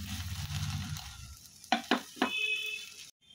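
Drumstick leaves fry with potato and shrimp in a pan, a low bubbling sizzle under a few sharp scraping clinks of a spatula stirring, close and brief, ending abruptly.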